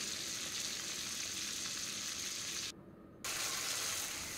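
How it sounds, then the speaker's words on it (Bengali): Catla fish frying in a pan, a continuous dense sizzle heard close up, with a brief drop-out partway through before the hiss resumes. "মাছ ভাজাটা বসিয়ে দিয়েছি।"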